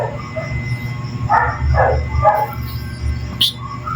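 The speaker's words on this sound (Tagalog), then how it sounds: "Nagkahulan yung mga aso." Dogs barking at night outdoors, several sharp barks in a quick cluster at mid-distance over a humming background, followed by a brief yip.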